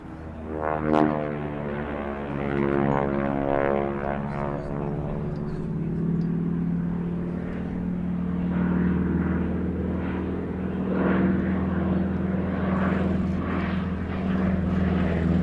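A North American Harvard propeller trainer flies past with a low, throbbing radial-engine drone and a buzzing propeller note, steady and fairly close, with a brief sharp onset near the start.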